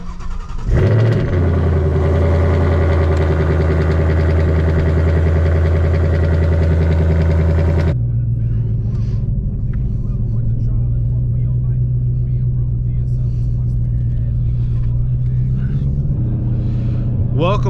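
A Vortech supercharged 2019 Ford Mustang GT V8 roars to life loudly, holds a strong rumbling idle, then drops to a lower, steady burble as a voice talks over it.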